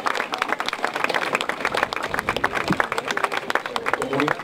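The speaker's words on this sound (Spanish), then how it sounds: "Fuerte el aplauso para los caballeros que se cumple." Crowd applause at a community health certification ceremony in Paso San Juan, Veracruz, steady loud clapping from many people throughout, with voices and a loudspeaker announcer heard over it.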